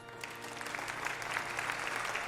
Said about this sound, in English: And then the people literally start clapping.